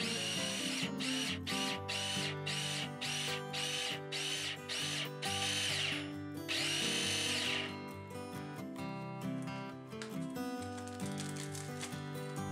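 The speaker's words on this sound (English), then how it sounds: "When you're using a food processor to finely chop ingredients like this, pulse the machine on and off." Food processor pulsed on and off to finely chop burger ingredients: about a dozen short, loud whirring bursts in quick rhythm, then one longer burst and a steadier run of whirring, close and alone with no talk.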